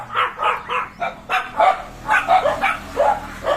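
A dog barks repeatedly at close range in a quick, steady rhythm, with short yips mixed in, barking at a cow outside.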